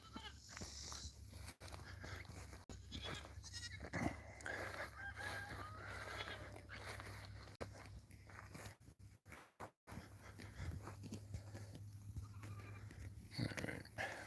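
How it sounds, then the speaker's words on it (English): Goats and sheep call out on a homestead during evening chores, with bleats scattered over constant outdoor farm noise and a few sharp knocks, some calls near and others farther off. "The goats are doing good. And there's the sheep."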